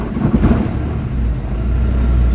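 An Isuzu Crosswind engine idles roughly with a shaky, uneven vibration, a loud, close, low rumble that wavers before settling into a steadier drone.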